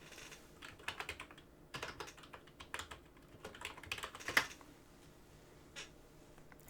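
Rapid bursts of typing on a computer keyboard, close keystroke clicks in uneven runs with short pauses, entering a topic into PowerPoint's Quick Starter, no talk.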